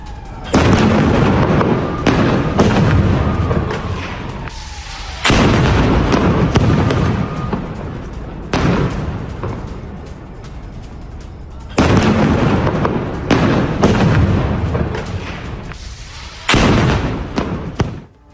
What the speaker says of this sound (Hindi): हमास लड़ाके भी जमकर कर रहे हैं फायरिंग।